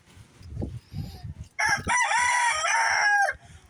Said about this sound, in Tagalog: Ang ganda ng aking sound sa mga tuktulaok ng manok.